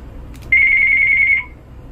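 A single electronic telephone ring sounds once, a steady, loud tone lasting about a second, preceded by a couple of faint clicks over low background hum.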